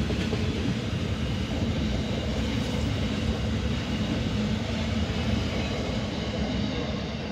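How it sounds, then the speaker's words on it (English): A train rolls into a station platform with a steady, loud rumbling roar and wheel noise that holds constant throughout, no voices over it. "And we have an MSIT arriving at platform number 2 for Liverpool service."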